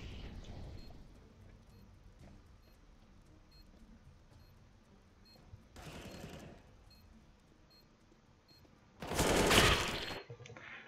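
AK rifle gunfire in a CS:GO Overwatch replay: a short sharp burst midway, then a louder, denser burst near the end, with faint game ambience in between.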